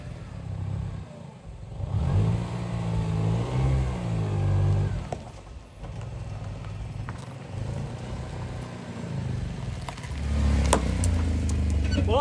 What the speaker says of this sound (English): Let's make sure that this crash damaged car actually drives.